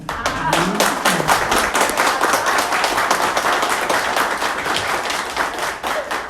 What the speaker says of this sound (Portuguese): Irmãos, fiquem à vontade para dar uma salva de palmas.